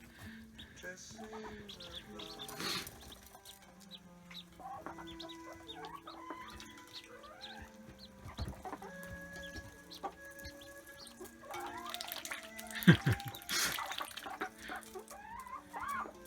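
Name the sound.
ducklings peeping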